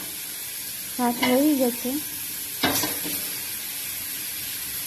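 Oil heats and sizzles in a cooking pan at home, a steady close hiss running throughout, with a brief spoken remark and a short clatter partway through.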